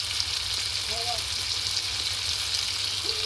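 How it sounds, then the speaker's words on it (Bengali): Tandoori chicken sizzles steadily in a hot pan on a gas stove as the pieces are turned, a constant close broadband hiss with a brief faint voice in the middle. "এবার চিকেনটাকে দিয়ে দিলাম। আমি ওপর উল্টিয়ে দিচ্ছি।"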